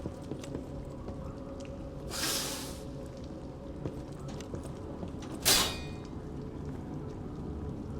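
In the video game Lies of P, a door opens with two brief creaking, scraping bursts a few seconds apart, heard over a faint low ambient drone.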